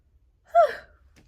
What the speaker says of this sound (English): This is my first yawn of the day.